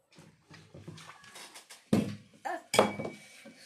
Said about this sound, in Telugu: సో ఇలా ఐస్ క్యూబ్స్ వేస్తాను